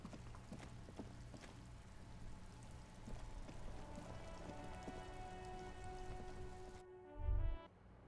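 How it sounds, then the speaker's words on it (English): Rain patters steadily on the white-on-blue police livery of a motor carriage in the video game Disco Elysium, a soft continuous drizzle under sustained musical tones, ending with a brief low thump. "Droplets of rain fall on the white on blue police livery of the motor carriage."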